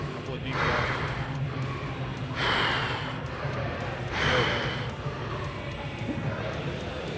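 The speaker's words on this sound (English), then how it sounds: "Couple of deep breaths." Heavy breathing from a lifter during a hard leg-day workout in a gym, with three deep, loud breaths in a slow rhythm over steady background noise.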